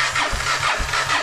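An old Honda engine sputters through a start on full choke with no throttle, catching and running in a rough, uneven rhythm, close and fairly loud, with no talk over it.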